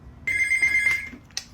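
A house telephone rings once with a bright electronic trill lasting about a second, clear and close with no voices, followed by a small click.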